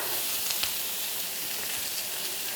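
Halloumi cheese cut lengthways sizzling in a hot griddle pan with a little olive oil, a steady, dense hiss and crackle that continues without a break.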